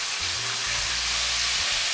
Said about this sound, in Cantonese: 慢慢炒到辣椒熟。